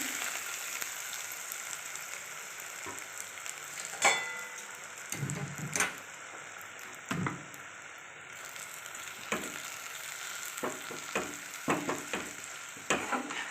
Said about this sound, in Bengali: এবার এই ফোড়নটা ঢেলে দিচ্ছি